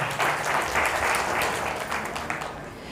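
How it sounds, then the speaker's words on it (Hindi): Loud applause from a gathered crowd at a Bahujan community event honoring Lord Buddha and Baba Saheb, brisk dense clapping in short surging waves that tapers slightly by the end. "तो हम भगवान बुद्ध और बाबा साहब को एक बार जोरदार तालियों से अभिनंदन करें"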